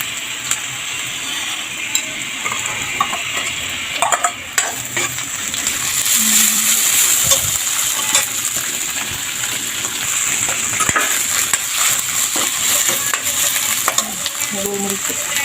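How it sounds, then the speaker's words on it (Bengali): Garlic, ginger, cumin paste and torn green chili hit hot oil for a spicy meat curry, giving a loud steady sizzle with bursts of spitting and a few clinks and scrapes of stirring. "তো সেগুলো একটু ভেজে নিব।"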